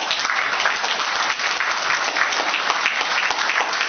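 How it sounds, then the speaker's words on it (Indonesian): Audience at a meeting clapping together in a continuous, even burst of applause, dense and close throughout without a break. "kita tepuk tangan di sini."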